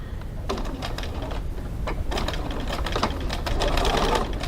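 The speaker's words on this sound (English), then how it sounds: "So now I'm going to start the stitching where the flap stitching is." Close-up sewing machine stitching along a leather wallet flap, a continuous rapid mechanical chatter with uneven bursts, loud and alone without speech.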